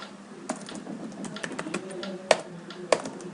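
Close computer keyboard typing of switch configuration commands, quiet irregular key taps with a couple of sharper, louder keystrokes near the end.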